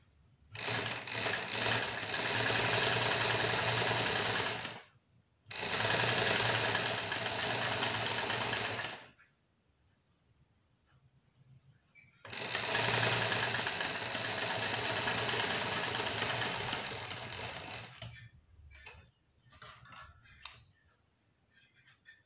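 A sewing machine stitches a back seam, running in two long loud bursts separated by a short pause and a longer quiet gap, ending with brief clicks and handling noise, with no talking.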